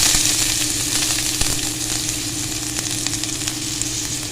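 Finely sliced onions sautéing in a hot pan, a loud steady sizzle close up with small scattered ticks and stirring clatter, and no talking.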